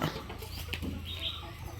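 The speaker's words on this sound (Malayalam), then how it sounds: "നമ്മുടെ മറ്റു കോഴിക്കുഞ്ഞുങ്ങളൊക്കെ ഇതാ ഇതിലേ നടക്കുന്നുണ്ട്" Soft clucking and peeping from small chickens, brief chirps over a low steady background hum, fairly faint and close by.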